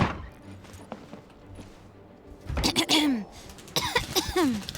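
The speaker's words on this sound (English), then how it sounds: "You got a cough?" A video game character in Genshin Impact coughs twice, a pair of short, fairly loud bursts standing out against quiet game background and faint low hum.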